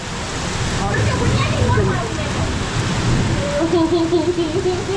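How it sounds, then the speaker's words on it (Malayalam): Heavy rain pours steadily and loudly close by, a dense continuous hiss with a low rumble of thunder beneath it, while people talk over the downpour. "ഇവിടെ അടിപൊളിയായിട്ടുള്ള മഴ പെയ്തുകൊണ്ടിരിക്കുകയാണ്"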